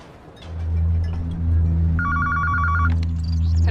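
A telephone bell ringing in an office at the Pakistan High Commission, one bright ringing burst at mid-clip over a low steady hum of background music.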